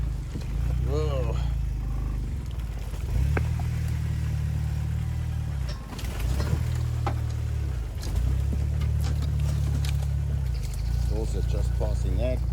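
A stock Jeep YJ on 35-inch Trepador tyres climbs a steep, narrow off-road trail, its engine droning low and steady with rising revs in two long pulls, close up, while someone talks over it in places.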